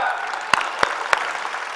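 An audience at a Jaipur Literature Festival session gives a few sharp, evenly spaced claps, three distinct smacks over a quiet room hum.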